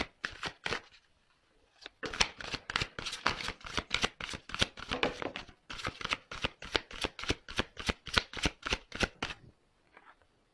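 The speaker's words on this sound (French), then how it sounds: "Donc, je vais prendre les cartes là." Tarot cards riffled and shuffled at close range, a long run of rapid rhythmic flutters in quick bursts, briefly pausing near the start and trailing off at the end, with no voices.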